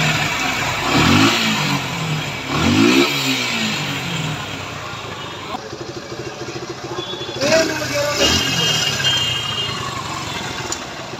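A Suzuki Gixxer SF motorcycle, freshly serviced with its carburetor adjusted, revs repeatedly with loud, close blips over a steady running engine, each throttle burst rising and falling several times.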